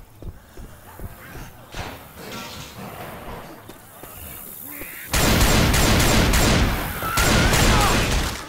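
Left 4 Dead 2 gunfire, scattered shots at first, then a dense loud burst of rapid fire in the second half, with other game sounds underneath.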